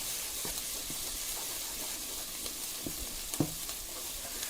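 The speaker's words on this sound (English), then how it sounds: "Don't want the garlic to burn. Mix it in well with the onions." Minced garlic frying with onions gives off a soft, steady sizzle, with occasional scrapes and taps of a utensil stirring the pan, faint and continuous without any talk.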